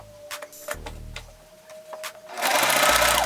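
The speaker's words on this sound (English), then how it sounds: "I'm going to be sewing with a straight stitch." A sewing machine runs a straight stitch on sheer mesh fabric, starting and stopping in short close bursts before breaking into a louder continuous whirring run at the end.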